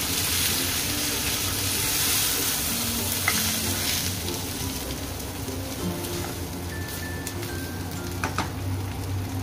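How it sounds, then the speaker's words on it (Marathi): Prawns fry in a pan over a low flame with very little oil, giving a close, steady sizzle with stirring and scraping noises and no talking. "ते जरा बारीक गॅसवर व्यवस्थित आतपर्यंत मस्त फ्राय होईल"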